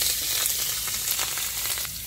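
Nigella seeds and green chilies sizzling in hot oil, a close, bright crackle with a few sharper pops, steady and fairly loud throughout the short moment, no voices.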